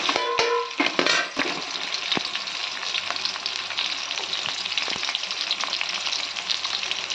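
Sliced onions and slit green chillies sauté in a pan for spicy chicken gravy. A loud opening crackle of oil and clatter settles into a continuous close sizzle with occasional stirring taps.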